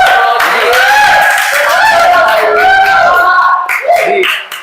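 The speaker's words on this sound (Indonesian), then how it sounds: "Wah, tepuk tangan dulu dong." An audience at a university arts faculty event claps loudly and continuously, with cheering and whooping voices rising and falling over the applause.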